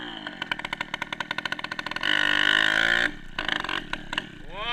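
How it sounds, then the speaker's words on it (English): Dirt bike engine in the snow, opening with rapid pulsing idle-like popping, then a steady high rev for about a second before dropping back to choppy bursts and a falling whine, close and loud. "Or are you riding the dirt bike in the snow?"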